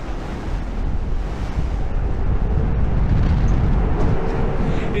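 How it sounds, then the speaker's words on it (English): Strong wind buffets the open deck of the Voyager of the Seas cruise ship, a loud, steady roar with rumbling gusts across the whole clip and a faint wash of sea beneath, no voices. "It's going to be way too windy"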